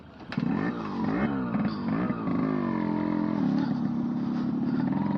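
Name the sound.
Yamaha RX100 motorcycle engine with stock exhaust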